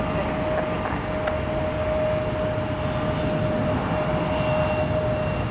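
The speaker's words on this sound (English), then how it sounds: "There it is, now rolling off 30 Delta left." A Delta airliner takes off from runway 30 Left at Minneapolis–St. Paul Airport, producing a steady, broad engine roar that holds at an even loudness throughout with no voices.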